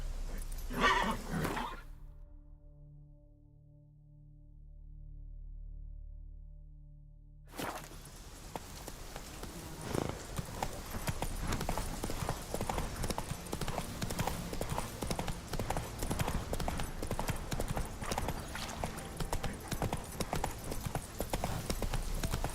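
A horse in the video game The Witcher 3 gives a short whinny, then after a brief silence its hooves clip-clop in a steady, close rhythm for the rest of the stretch.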